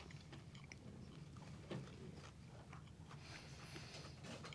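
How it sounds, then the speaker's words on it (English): A crunchy bite into a lunch food item, then steady close chewing over a background hum, with one sharper crunch near the middle. "Good crunch."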